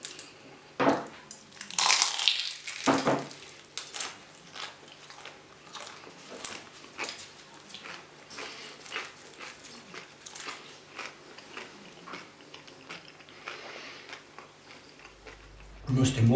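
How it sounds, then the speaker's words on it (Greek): Crisp bites into a homemade spinach and cheese pie made with thin, crunchy phyllo pastry: repeated close crunching and chewing, loud at first and then in softer bursts, with no talk over it. "Νοστιμότατη, σπανακοτηρόπιτα, λεπτό και τραγανό φύλλο σαν τσιγαρόχαρτο."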